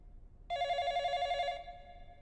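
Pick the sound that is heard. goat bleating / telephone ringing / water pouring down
telephone ringing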